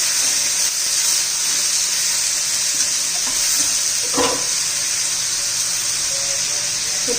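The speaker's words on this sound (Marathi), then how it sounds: "चांगलं परतून घेऊया तेलामध्ये दोन तीन मिनिट" Cluster beans and potatoes sautéing in oil in a pan, giving a steady, moderate sizzle and hiss with a brief stirring scrape partway through.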